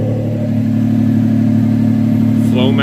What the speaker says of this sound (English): Look at that custom exhaust. Sounds pretty awesome. 6 cylinders breathing.